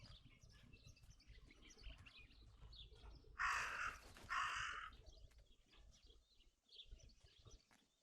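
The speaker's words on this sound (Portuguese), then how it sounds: "That raven is making a big fuss." A raven in the video game Martha is Dead gives two loud, harsh caws close by, set against a quiet, faint ambient background.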